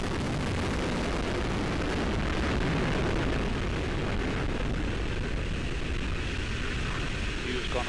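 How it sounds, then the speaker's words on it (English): Atlas V rocket with its RD-180 engine lifting off on the NRO L-35 mission, a dense continuous broadband roar that stays steady and loud for the whole stretch, with a faint voice present underneath. "we have RD-180 ignition, and we have liftoff of the United Launch Alliance Atlas V rocket"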